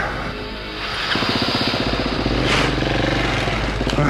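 Adventure dirt bike ridden off-road, its engine close and loud, rising from a lower drone into a rapid pulsing putter as the rider accelerates, with clattering over rough ground.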